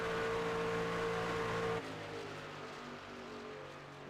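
Race trucks in a racing video game lapping the track during practice, a steady droning engine tone holding loud then dropping off as the truck pulls away, leaving quieter engine noise in the background.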